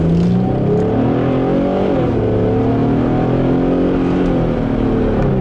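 A 2005 Infiniti G35x all-wheel drive sedan accelerates hard, its engine note loud and close, climbing steadily in pitch, dipping briefly at a gear change, then rising again in a sustained, unbroken roar.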